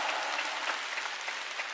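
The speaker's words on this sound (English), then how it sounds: "it's as if the crowd, particularly the Wang Chuqin fans, have just been waiting to explode into noise here" Dense, steady applause from a large arena crowd at a table tennis quarterfinal, a continuous wash of clapping with faint cheers, loud and even throughout.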